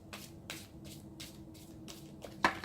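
Large tarot cards are shuffled sideways in a steady rhythm, about six soft riffling swishes close by, ending in a louder burst of card noise.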